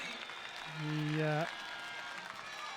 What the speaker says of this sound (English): Massive cheer from the crowd